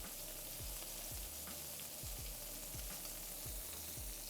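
A steak sears in a hot frying pan, giving a constant dense sizzle with low crackling pops throughout, steady and fairly quiet with no voices.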